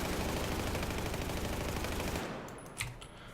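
A-91 assault rifle in Battlefield 4 fired full-auto in one long burst with recoil left uncontrolled, rapid loud evenly spaced shots for about two seconds, then stopping with a faint clatter and tail.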